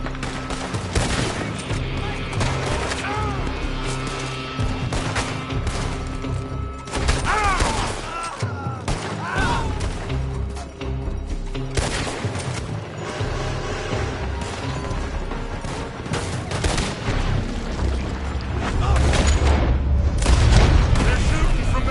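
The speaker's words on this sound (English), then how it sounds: "They're shooting from that building" Sustained gunfire from a PS4 shooter game, dense bursts and booms running throughout under in-game voices and music, growing heavier toward the end.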